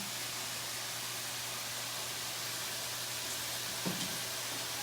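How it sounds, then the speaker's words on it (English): Steady, soft hissing sizzle of chicken breasts frying in a pan, continuous and broadband, with a faint clink partway through. "We have the chicken frying."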